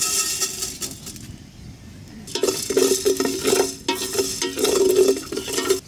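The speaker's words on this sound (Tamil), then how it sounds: "பட்டை, லவங்கம், ஏலக்காய், பிரியாணி இலை, அன்னாசி பூ போட்டு இப்போ வறுத்து எடுத்துக்கலாம்." Dry scraping and stirring in a pan with metallic clinks, a quiet pause, then steady bursts of cinnamon, cloves, cardamom, bay leaf and star anise rattling as they dry-roast, with utensil scrapes.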